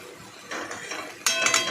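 A spoon scrapes and clatters in a pan while mustard and mango paste is stirred for a sour mango fish dish, with short metallic scraping bursts ending in a louder scrape.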